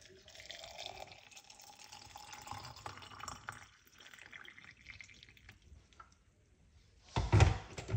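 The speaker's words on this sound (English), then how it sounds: "We're going to use hot water inside of it." Hot water pours into a container holding okra and garlic, a close, steady liquid trickle and splash running for several seconds, then a brief louder splash near the end.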